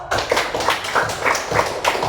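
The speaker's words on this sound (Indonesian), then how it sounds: "Tepuk tangan dulu buat kelompok 1 yuk." A class of middle school students claps steadily for a group during a physical education lesson on volleyball, a dense, close patter of many hands that holds for a couple of seconds with small surges in the rhythm.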